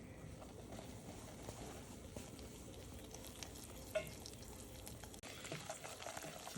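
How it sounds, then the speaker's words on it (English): Gumbo roux being whisked in a pot for Louisiana gumbo, a soft continuous stirring and faint sizzle with scraping, fairly quiet and steady, one brief knock near the end, no talking. "we're going to whisk it all together"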